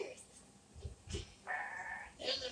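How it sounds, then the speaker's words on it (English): A goat bleats in an attic bedroom at a woodland house, letting out one sustained, wavering bleat near the middle, with brief voice sounds and soft rustling around it. "And there's a goat on my bed."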